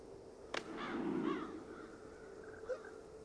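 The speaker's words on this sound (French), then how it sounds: "un corbeau alcoolique" A crow caws once in the video game Child of Light: a raspy call over a steady, faint ambient hum.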